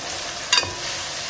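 Fried onions and freshly added carrots sizzle steadily in a pot for pilaf, and a single quick stir scrapes through the hiss midway.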